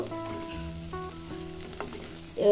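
Mung dal fries in a pan with onion, garlic and green chillies, a continuous close sizzle with occasional stirring clatter and a louder burst near the end.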